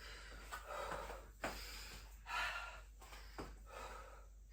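Heavy, gasping breaths after bear crawls in a four-minute Tabata workout, several loud rhythmic inhales and exhales close to the microphone with no talking.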